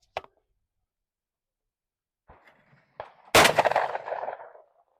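A shotgun fires at sporting clays on an outdoor range, one sharp report early, then a couple of thuds and a second loud blast that rings and decays for about a second.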